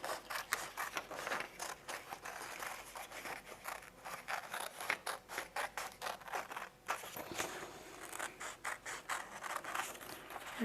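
Scissors snip through paper while a snail craft is cut out, a close series of short crisp cuts and rustles in an uneven rhythm.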